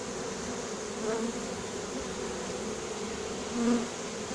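A honeybee swarm being shaken into a hive gives off a steady, dense buzzing hum, with a couple of louder passes as bees fly close to the microphone.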